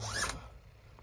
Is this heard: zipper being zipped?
yes